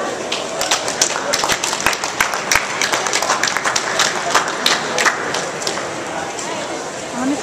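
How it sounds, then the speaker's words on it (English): Audience at a fighters' weigh-in for a 155-pound bout clapping steadily for two fighters, a dense stretch of close applause with some crowd noise throughout. "Big round of applause for these two fighters"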